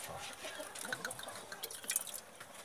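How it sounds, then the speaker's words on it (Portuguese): A liter of water is poured into a bottle serving as a bird drinker, a soft, close trickling and splashing with a few brighter drips. "Um litro d'água. Vou jogar aqui dentro da garrafa que é o bebedouro."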